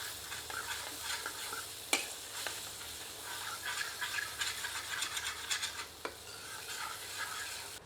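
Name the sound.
stirring chicken with yogurt in a pan with a ladle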